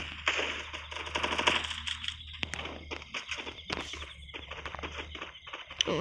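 Rapid bursts of Thompson submachine gun fire in the Free Fire battle royale game, loud and close, with stuttering volleys and scattered shots over a steady background hum.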